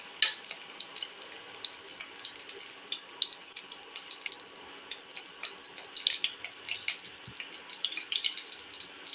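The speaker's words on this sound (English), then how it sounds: "and let it fry" Whole spices with cinnamon sticks, cardamom powder and salt fry in a pan with a steady, fine crackling sizzle throughout, close and alone.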